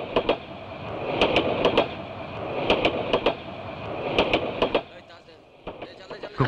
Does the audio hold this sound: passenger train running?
yes